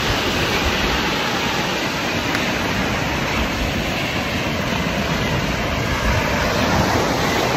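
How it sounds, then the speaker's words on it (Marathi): Sea waves wash steadily onto a quiet morning beach at Malvan, Maharashtra, as a continuous, fairly loud rushing surf with no distinct breaks and no voices. "मस्त समुद्राच्या लाटा, शांतता"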